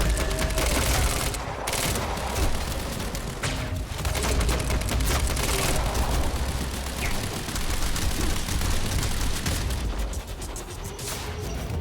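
Submachine gun fire in the shooter game Quantum Break, a dense continuous clatter of shots mixed with booms and mechanical game effects, loud throughout with no clear pauses.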